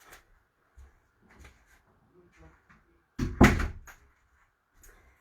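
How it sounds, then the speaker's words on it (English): A door in a room is shut with one loud, close thud partway through, followed by a short rattle. Soft, scattered room noises come before and after it. "I'm going to shut the door, 2 seconds."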